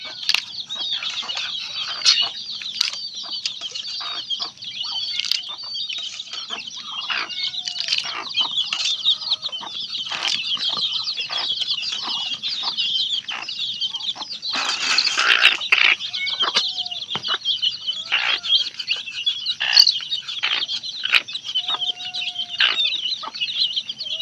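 A crowd of farm hens clucks and squawks loudly and continuously close by, with bursts of wing flapping throughout and a louder flurry midway, during a chicken-catching contest.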